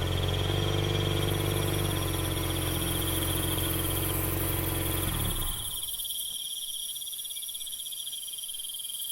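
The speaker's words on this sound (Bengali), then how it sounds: "আর আধার রাতে নির্জন এই পথে শুধু জোনাকি পোকার ঝিঝি শব্দ।" Insects chirp in a shrill, continuous drone on a dark, deserted village road at night. The chirring holds steady throughout, and a lower layer of the chorus falls away about halfway through.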